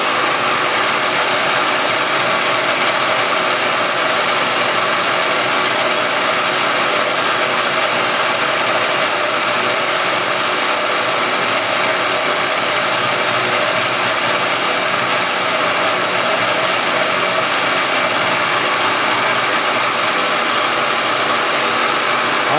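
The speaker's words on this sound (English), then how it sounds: "I'm climb cutting everything, so everything should work out." A milling machine climb cutting a water pump fan runs as a loud, steady broadband whir and whine that holds without break from start to finish, with no voices.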